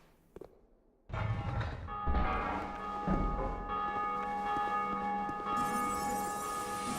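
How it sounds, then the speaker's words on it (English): A bell is rung to open a door in Dark Souls 2, a sudden struck clang followed by a long, ringing metallic tone with sustained overtones that hang in the air. "Ring the bell to open the door."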